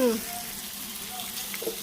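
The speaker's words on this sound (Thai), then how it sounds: "น้องโซเฟียกำลังย่างเลยค่ะ" Sliced pork sizzles steadily on a Thai moo kratha grill, a continuous close hiss of frying fat, with someone talking briefly over it at the start.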